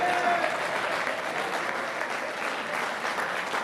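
A live audience at a Punjabi poetry recital breaks into loud, sustained applause. Dense clapping fills the whole stretch and stays steady and close, with a brief voice faintly audible at the start.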